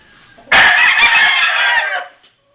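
Chickens cluck and a rooster crows loudly and close by in one long, strained call lasting about a second and a half, followed by quiet.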